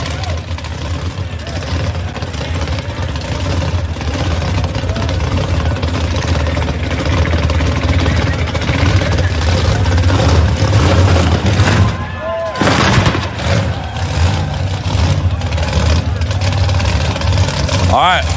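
A burnout car's engine restarts and idles loudly close by, a steady rumbling drone with a brief dip partway through, while a crowd and voices talk over it at an outdoor burnout event in Bradenton, Florida.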